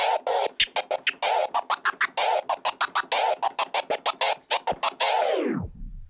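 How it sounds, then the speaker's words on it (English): Rapid choppy closed-fader transformer scratching on a turntable, short cut-up bursts in quick rhythm, ending with a record slowing down into a low descending groan. "This is a closed fader scratch"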